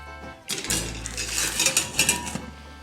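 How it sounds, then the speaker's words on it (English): A milk tart is worked out of its enamel pan with clattering metal-on-enamel scrapes and clinks, busy and close for a couple of seconds after a quiet start. "So let's see if I can remove it from its pan."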